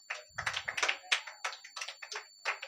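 Children clap at a vacation Bible school prize distribution, a run of separate, fairly sharp claps in a loose, uneven rhythm, about a dozen in all, faint and somewhat distant with no talk over them.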